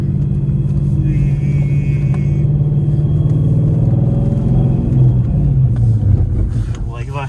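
A car fitted with a stage 4 clutch rolls along in second gear with rough engagement, its engine a loud, steady low drone that swells slightly toward the end, with muffled voices inside the cabin.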